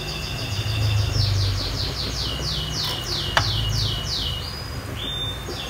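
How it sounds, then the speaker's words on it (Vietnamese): Birds chirp and sing outdoors beside a kitchen where salmon head soup simmers, a quick run of repeated rising tweets sounding steadily over a low background hum, fairly close and clear. "Nấu nồi canh mà mấy chim nó hót dữ quá."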